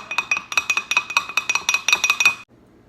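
Melted soft plastic being stirred in a container, giving quick, close, regular clinks of the stirring tool against the sides that stop abruptly after about two and a half seconds.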